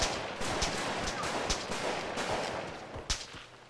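Gunfire from rooftops in the video game ArmA 3, a series of sharp distant shots and short bursts at irregular intervals, with one louder crack near the end, no speech.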